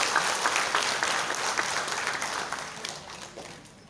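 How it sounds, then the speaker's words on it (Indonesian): Steady, dense applause from an audience at a formal inauguration ceremony in Pekanbaru, loud and continuous, then tapering slightly toward the end. "berikan aplaus yang meriah"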